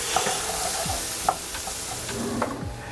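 Vegetables frying in a pan for a coconut curry, a steady bright sizzle with occasional stirring scrapes and pops, close and continuous with no talk.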